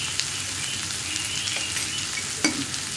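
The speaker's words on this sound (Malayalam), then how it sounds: "ഇനി സവോള ഒന്ന് വഴക്കിയെടുക്കുക" Sliced onion sautés in a pan, giving a soft, continuous hissing sizzle like light rain, with one brief knock of a utensil near the end and no voices.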